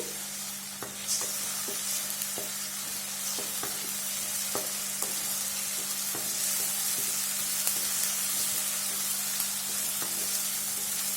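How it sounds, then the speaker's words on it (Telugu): Ginger garlic paste frying with onions in a pan, a steady close sizzle with a constant hum beneath and light periodic clicks of stirring throughout. "ఇందులోకి ఒక టేబుల్ స్పూను అల్లం వెల్లుల్లి పేస్ట్ వేసుకుందాము ఇది పచ్చివాసన పోయేంత వరకు ఫ్రై చేసుకుందామండి"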